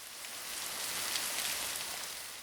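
Steady rain falls, a soft uniform hiss of drops on surfaces that stays faint and even throughout with no voices.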